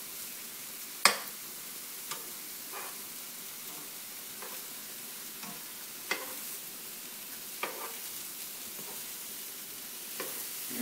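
Portobello mushrooms fry in a pan with a quiet, steady sizzle, broken by a few sharp clicks and taps of a utensil as they are stirred and turned. No one speaks.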